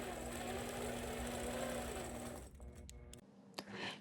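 A sewing machine runs steadily while stitching a feather quilting pattern, a continuous motor hum for over two seconds that stops abruptly, followed by near silence broken by a few faint clicks and light handling sounds.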